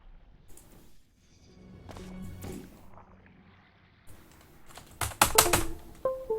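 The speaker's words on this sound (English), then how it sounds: "freaking keyboard" Computer keys clatter in short, uneven bursts close by, with quieter gaps between and a dense flurry of sharp clicks near the end.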